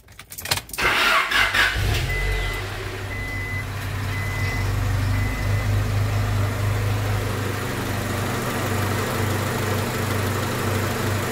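A 1998 Honda Civic EX engine, after a broken timing belt, cranks with a few sharp bursts, then catches and settles into a steady idle, with faint intermittent beeps early on.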